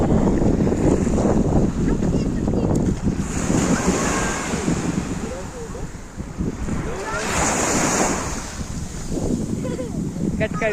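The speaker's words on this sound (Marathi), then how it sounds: "हे लाट आली लाट आली." Ocean waves breaking on a shore, a loud continuous surf roar with swelling crashes and wind buffeting the microphone, while people shout and talk nearby.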